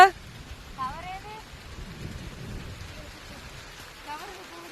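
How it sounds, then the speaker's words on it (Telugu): Steady, soft rain patter fills the background while voices briefly speak over it. "ఎట్లుంది వాన సరిపోద్దా ఇంకా కొట్టాలా చాలా"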